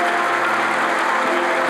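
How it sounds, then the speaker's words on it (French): A church congregation applauding during a bilingual Spanish-French sermon, a brief, thick wash of clapping held at an even level with no pause. "Applaudissez le roi"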